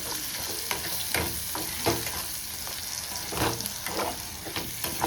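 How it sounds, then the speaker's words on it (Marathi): Chicken cafreal with turmeric and garam masala being stirred in a pan, a steady close sizzle broken by repeated scraping strokes of the spoon, with no talking. "थोडीशी हळद घातली. आणि आता बरोबर मिक्स करता."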